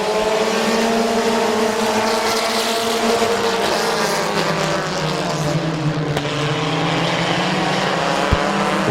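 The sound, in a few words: race cars racing around a speedway turn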